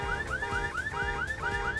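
A car alarm set off by hitting a car in Fortnite Chapter 6 cycles through a loud, repeating rising electronic whoop, about five rapid sweeps in under two seconds, with a steady tone held underneath and no voices.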